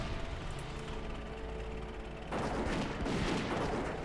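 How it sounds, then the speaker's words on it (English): Missiles firing in World of Warcraft: Wrath of the Lich King Classic, a dull rumbling bed that suddenly swells into a louder burst of blasts and crackling impacts midway. "Fire the missiles!"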